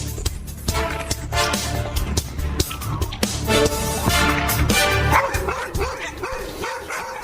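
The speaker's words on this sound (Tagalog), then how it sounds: "Yung mga aso mo, tahol ng tahol!" Several dogs bark repeatedly and loudly at close range in a busy domestic setting, with sharp overlapping yaps and occasional whimpers layered over steady background noise.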